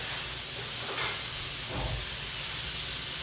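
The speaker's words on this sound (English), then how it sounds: "It's in the pan, my man. The beef is in the pan." A Wagyu beef burger patty sears in a hot pan with a soft, steady sizzle and hiss that runs continuously at low volume, and a couple of faint clunks are audible.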